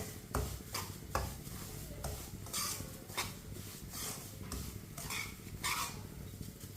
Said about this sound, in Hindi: सूजी को ना इसी तरह चम्मच चलाते हुए लाजम भूने, जलाना नहीं है, हल्का सा ब्राउन करना है।